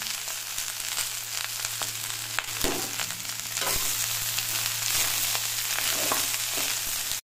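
Shredded cabbage seasoned with turmeric sizzles steadily in a hot pan, a constant close frying hiss broken by occasional soft stirring clicks over a low background hum.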